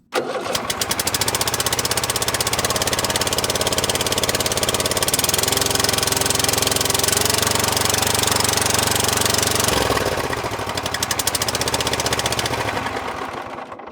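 A zero-turn riding mower engine starts up and runs loudly with a rough, rapid chugging, revving and settling close by without any talk.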